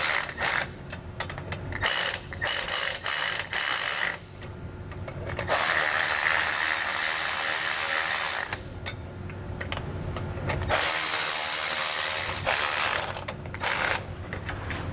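A ratchet wrench snugs up the bolts of a Roadmaster Reflex steering stabilizer on a 2017 Newmar motorhome, with close, loud bursts of rapid clicking that pause briefly between strokes.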